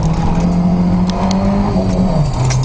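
A car drives steadily with a continuous engine drone and road noise throughout, close and loud, with no speech.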